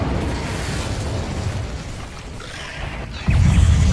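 An Incendio fire spell blasts in the video game Hogwarts Legacy, a loud continuous roaring whoosh of flame with a heavier low burst near the end.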